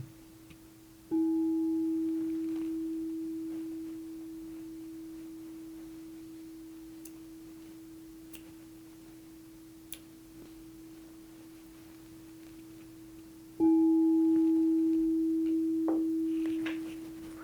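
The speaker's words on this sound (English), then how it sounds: "strike my singing bowl" A singing bowl is struck twice, each strike giving a clear metallic onset followed by a long, pure, steady ringing tone that slowly fades in a quiet room.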